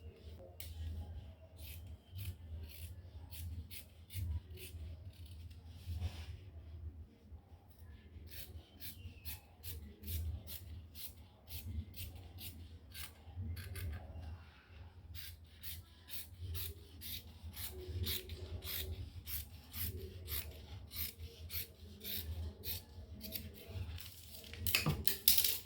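Scissors snip through shirt fabric to cut out a back piece, a long run of quick, crisp cuts repeating steadily over a low background hum, with soft rubbing of cloth between snips.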